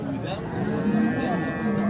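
Cattle lowing among the crowd at a busy livestock bazaar, one sustained moo near and fairly loud over steady market chatter and background voices.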